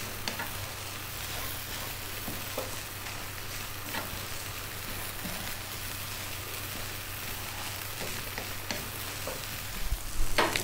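Lentils and rice fry in a pan while being stirred and folded, a steady close sizzle with soft scraping and turning sounds throughout, no talking.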